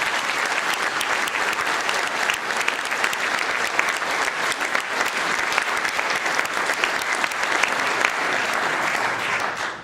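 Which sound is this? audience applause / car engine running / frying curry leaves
audience applause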